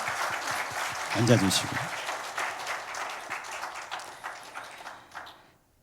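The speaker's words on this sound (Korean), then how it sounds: "같이 우리 힘차게 감사의 박수 한번 하겠습니다." A church congregation applauds volunteer teachers during a Sunday service, a steady wash of clapping that rises and then thins out over several seconds while someone speaks over it.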